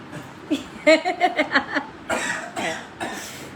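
A man coughs during a live video call, one short cough then a rapid burst of hacking coughs, followed by a few breathy, rougher coughs and throat sounds, close to the microphone.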